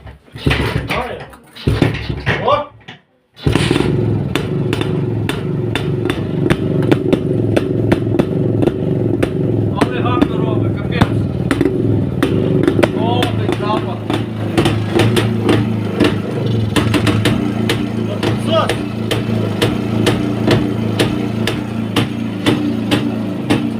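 A Jawa 630-559 motorcycle engine starts after a few sputters, then idles loudly and roughly with a rapid, rattling chug that continues throughout.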